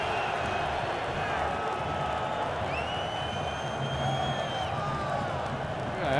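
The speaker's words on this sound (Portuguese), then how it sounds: "a torcida do Santo André solta a voz no Pacaembu" Santo André football fans cheering at Pacaembu stadium during the Paulista final against Santos, a broad, steady roar of distant crowd voices with scattered whistles and chants, a commentator's voice faintly underneath.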